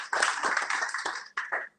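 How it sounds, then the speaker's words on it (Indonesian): A church congregation claps in dense, continuous applause that swells quickly, then breaks off briefly and returns for a short final burst. "Berikan tepuk tangan untuk Tuhan"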